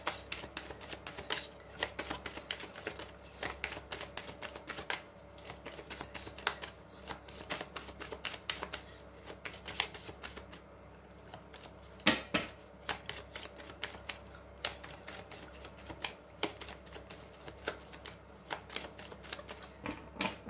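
Petit Lenormand oracle cards are shuffled steadily by hand, a close, continuous run of crisp riffling flicks and soft slaps that keeps going with no voice over it.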